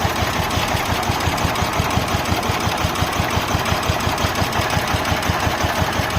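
A steady engine runs with a rapid, regular low throb, close and constant throughout, with no voices.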